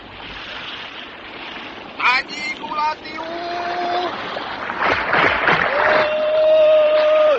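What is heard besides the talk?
radio drama sound effect of fishermen dragging a boat ashore, waves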